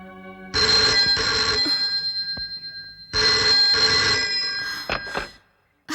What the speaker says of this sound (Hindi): कमला का फोन है।